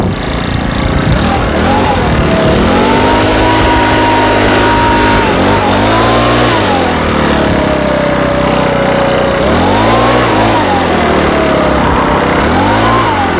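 A Makita 4-stroke leaf blower engine runs loud and close for the whole stretch, its pitch repeatedly rising and falling as the throttle surges and eases back, with no talking.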